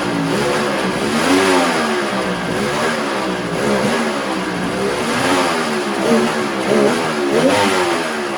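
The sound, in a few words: Volvo Penta 3-cylinder engine revving, throttle response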